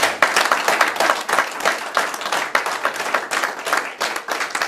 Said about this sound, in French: permettez-moi de demander un applaudissement spécial pour la première dame